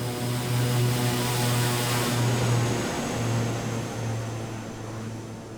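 An H145 helicopter in Microsoft Flight Simulator drones steadily, its engine whine and rotor thrum holding at a loud, even level throughout with no voices.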